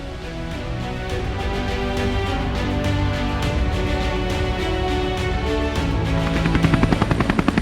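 Two helicopters' steady thudding rotor drone fills the scene, loud and continuous with a low rumbling engine, no voices.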